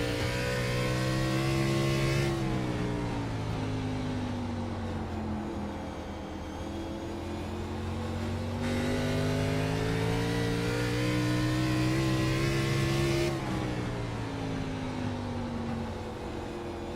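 Onboard engine of race car number 19 lapping in the Integrity IGNITE Series Sunshine State 150, a loud, close mid-pitched roar rising and falling through repeated gear shifts and throttle changes, with no voices.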